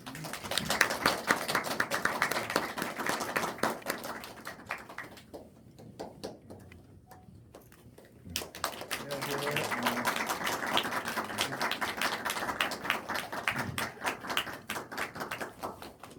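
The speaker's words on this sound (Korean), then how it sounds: "큰 박수 한번 부탁드리겠습니다" Cinema audience at a film talk event welcomes the director and three actors with applause: sustained clapping that dips briefly to near quiet midway, then swells again, with some voices mixed in.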